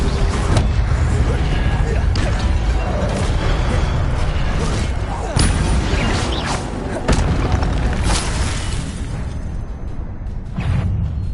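Incendio fire spell cast in the Hogwarts Legacy video game, heard as repeated booming bursts and whooshes over dense, continuous combat noise, loud and close throughout.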